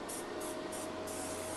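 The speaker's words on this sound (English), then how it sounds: "I'm just going to put a little bit of spray" Fine setting spray hisses from an airbrush makeup setup in short, even bursts, soft and close with no talk over it.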